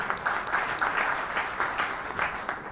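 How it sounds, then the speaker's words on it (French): Steady audience applause, many hands clapping continuously at moderate loudness throughout. "Christian Brodag, sous vos applaudissements, s'il vous plaît."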